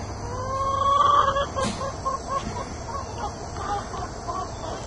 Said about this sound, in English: There's my speckled Sussex rooster that I'm using for breeding